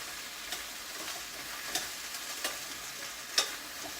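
Okra sizzles softly in a pan for lentil and lady finger masala, with a spoon scraping and clicking against the pan a few times over a faint, steady frying hiss.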